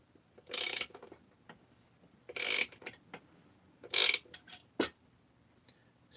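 Parts of a Husqvarna 288XP chainsaw engine crankcase are handled and pressed together, giving a few quiet bursts of scraping and clicking with short metallic ticks between them and no talking.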